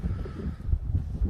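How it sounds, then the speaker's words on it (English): Low, rumbling wind buffets the microphone in uneven gusts outdoors while planting a tree, with no voices present. "Sorry about the wind. It's just getting kind of windy today."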